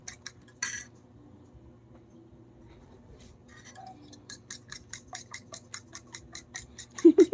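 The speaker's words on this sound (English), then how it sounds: "Now we'll stir the egg." A utensil stirs egg in a bowl, a quick run of light metallic clinks and taps early on, then a steady rhythmic series of close ticking strikes against the bowl.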